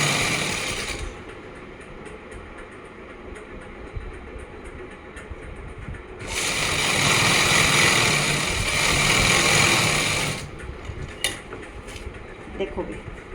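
Domestic sewing machine stitching the folded hem of a simple kameez: steady mechanical whirring with a louder, busier run in the middle, close, with someone talking over parts of it.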